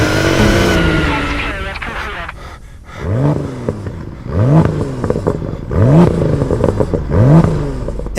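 A BMW M2 F87 fitted with an Akrapovic exhaust revs hard and loud close by, first a sustained high engine note, then a run of repeated sharp rev blips rising and falling in quick succession.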